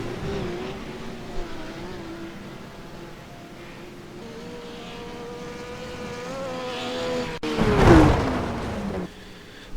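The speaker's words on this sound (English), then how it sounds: "Putting that BMW through its paces." BMW GT3 race car engine lapping Watkins Glen in a sim racing game, a steady high engine drone that shifts pitch through gear changes and rises into a louder burst near the end.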